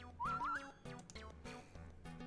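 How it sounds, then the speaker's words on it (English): Person whistling two short rising notes close to the microphone, quiet, followed by a few faint knocks and clicks. "A whistle."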